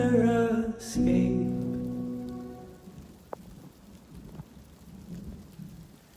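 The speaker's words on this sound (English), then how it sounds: "It's a bit of a lightning storm up here. I'm kind of near the top of Mount Sanitas, and lots of thunder and lightning." Thunderstorm near the top of Mount Sanitas: a loud, close rolling thunderclap dies away into steady rain pattering on surfaces, with a faint sharp crack in the middle.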